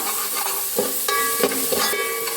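Garlic, ginger and chili paste sauté in a hot pan with a steady close sizzle, broken by several sharp clinks and scrapes of a spoon against the pan.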